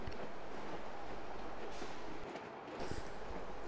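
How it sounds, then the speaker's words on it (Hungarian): HÉV M10 electric suburban train units, coupled as a pair, pull away toward Ráckeve with a steady broadband rumble and rushing noise, a brief dip midway, then the roar continues. "886-os M10-es csatolva a párjával a 887-888-al elindul Ráckeve felé."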